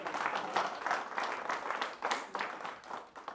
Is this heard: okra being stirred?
no